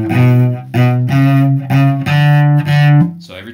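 A major scale played in hooked bows on a bowed string instrument, each sustained note changing pitch on a bow change: six rich, even strokes in a steady rhythm, close and clear, with no talking.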